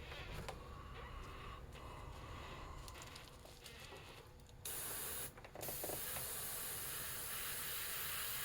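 A spray can puts a textured paint coat on a custom crappie fishing lure. It makes a soft steady hiss, then a louder, brighter burst after a short pause, close by with no talking.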